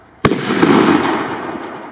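A single loud, close Exploder 4 firecracker goes off outdoors with a sharp bang, followed by a long crackling, hissing burn that slowly fades over the next couple of seconds.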